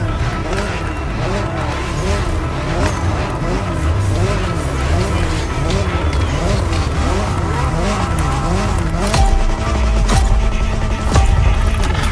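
The Jaguar CX-75 concept races in The Crew Motorfest, its engine loud and continuous with rising and falling revs as it shifts, mixed with tire squeal and skidding throughout.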